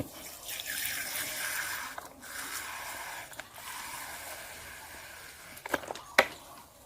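Vinegar is poured into a cup, giving a soft, steady liquid trickle for several seconds, followed near the end by a few light clinks and splashes, fairly quiet and close.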